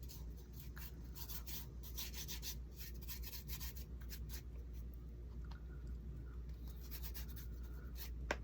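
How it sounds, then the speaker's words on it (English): Cinnamon is rubbed by hand onto a painted faux cinnamon stick, a soft continuous scratchy rasping at close range with brief stronger strokes, very quiet and without talk. "I'm putting some more cinnamon on it. I'm just going to rub it."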